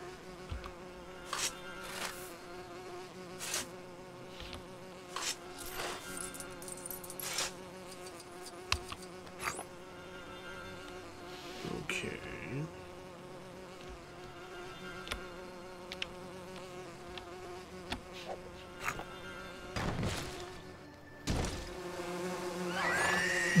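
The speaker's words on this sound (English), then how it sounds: "Yeah, a swarm of bees." A swarm of bees in the Lego Lord of the Rings video game, a steady insect buzz droning under game music and scattered effect hits, swelling louder toward the end.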